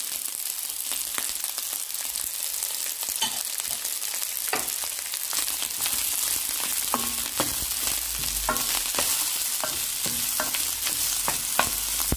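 Rice with egg, carrot and corn is stir-fried in a pan. A constant hiss of frying runs under frequent sharp scrapes and taps of the spatula as everything is tossed together, with no one talking.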